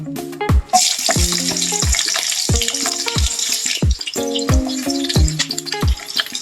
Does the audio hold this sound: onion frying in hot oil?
yes